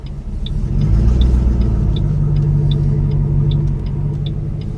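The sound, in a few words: manual transmission car moving off as clutch is released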